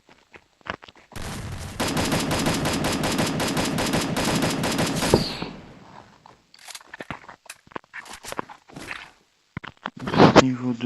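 Gunfire in the video game Free Fire, a sustained automatic burst lasting several seconds, followed by scattered single shots and impact sounds, then a final short flurry.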